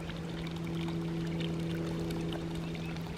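Water pours steadily onto a plant in a homestead garden, a constant close splashing trickle with a low hum underneath and no talk.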